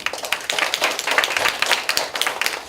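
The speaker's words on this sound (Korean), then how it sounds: "박수 치고 싶으면 박수" A university class claps in a lecture room, a brisk burst of many hands slapping at close range, irregular and fairly loud, lasting a few seconds without speech.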